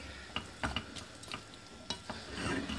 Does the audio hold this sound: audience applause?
no